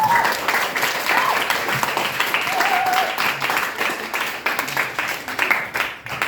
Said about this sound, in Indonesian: kita beri aplaus buat kita dalam pelajaran.